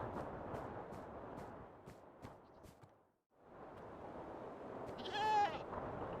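A sheep-like Glacian ram from the Minecraft mod pack Trains'n'Tech bleats, a game creature sound, with repeated short bleats, a brief silent gap, then a louder drawn-out bleat near the end.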